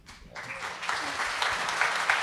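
An audience at a TV writers' room panel breaks into applause, starting suddenly after a brief pause and swelling into steady, loud clapping that holds to the end.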